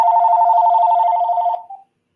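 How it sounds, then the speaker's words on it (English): A mobile phone rings close by in one loud, steady trilling burst of about a second and a half, which cuts off abruptly with a brief trailing chirp. No one talks over it. "I'm smart enough to keep my phone with me because inevitably it's going to ring."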